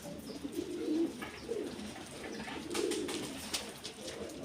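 Pigeons in a coop coo softly in low, repeated murmurs, several calls overlapping at a faint level with light background noise.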